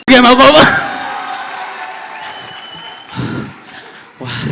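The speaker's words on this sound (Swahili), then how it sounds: "Wapi makofi ya mchungaji?" A comedy show audience claps for a pastor in a brief burst of applause that fades under a voice, and a voice cuts in again at the end.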